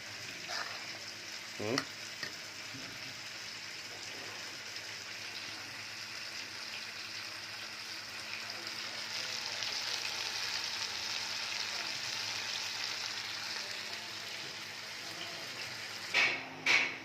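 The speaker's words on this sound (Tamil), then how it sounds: "புகை வருது நல்லா. நல்லா கொதிக்குது." A pot of fish curry bubbles and simmers steadily with a constant hissing, sizzling texture, punctuated by a faint clink early and a couple of metallic knocks at the end.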